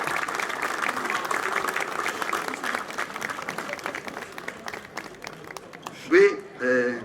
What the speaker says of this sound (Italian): chiederei un grosso applauso a questi volontari che stamattina sono uniti a noi